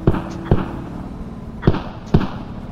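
Mortar rounds firing in the military shooter game Squad: four sharp, loud booming thumps with short ringing tails, spaced irregularly about half a second to a second apart.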